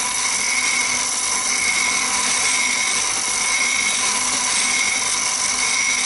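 A bench grinding wheel sharpens a flat chisel, a steady close hiss and whine of stone on steel holding evenly for several seconds with no talk.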